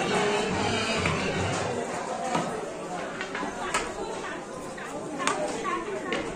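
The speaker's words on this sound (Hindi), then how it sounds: "बहुत भीड़ है, बहुत ज्यादा।" Dense crowd of pilgrims chattering along the packed Vaishno Devi path, a constant murmur of many voices with occasional footsteps and clacks, close and continuous, with one person speaking nearby.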